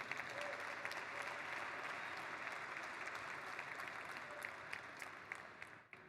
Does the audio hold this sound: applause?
yes